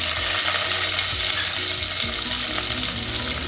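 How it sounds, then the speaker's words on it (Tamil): Small onions, green chili and curry leaves sauté in hot oil for a Koorkan Kilangu sambar, giving a loud, steady sizzle and crackle with occasional stirring scrapes throughout. "அது கூட கருவேப்பிலை நல்லா போட்டு வதக்கிடுங்க"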